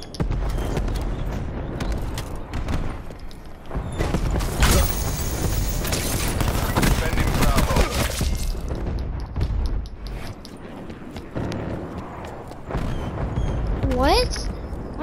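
Missiles exploding in the shooter game Call of Duty: Black Ops 4, heavy booming blasts and rumbling debris that come in waves, loud and close, mixed with game effects and a player talking.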